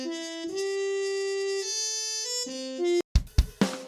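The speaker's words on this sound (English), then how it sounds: "This one sounds a little better because you're getting those realistic fluctuations in the breath." A virtual trumpet plugin plays a sustained melodic line of held notes whose tone carries realistic breath fluctuations, moving through several pitches before a few short percussive hits close it out.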